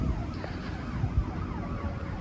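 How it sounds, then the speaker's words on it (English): Emergency vehicle sirens wail through a quiet industrial park lined with apartment areas and corporate buildings in Florida, steady and moderately distant, with sweeping rising and falling tones over a low traffic rumble and no talking. "you can hear all the sirens in the universe"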